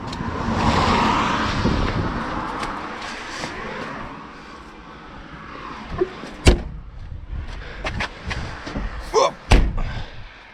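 A car door slams shut after the ignition is switched off, following a stretch of wind noise and rustling, with a few sharp knocks and thuds close to the microphone afterward.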